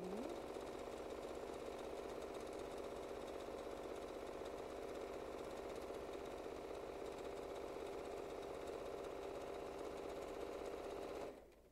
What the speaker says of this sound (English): We're still sewing.